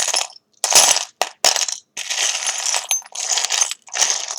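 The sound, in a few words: charms being dropped for a charm reading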